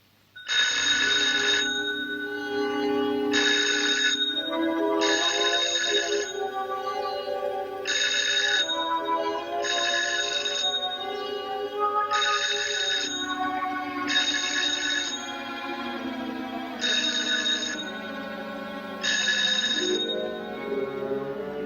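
A telephone rings in repeated regular bursts with short pauses between them, loud and close, over a low steady background hum.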